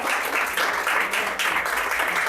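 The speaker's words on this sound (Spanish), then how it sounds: "un aplauso para ella" An audience at a book launch for an author claps warmly in a brief, dense burst of applause that swells and dips slightly, close and fairly loud, with no talking over it.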